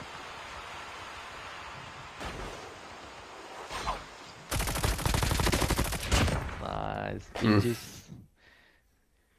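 AK117 assault rifle gunfire in Call of Duty, a sharp burst of rapid automatic shots after quieter background game noise, followed by further clattering effects and short bursts near the end.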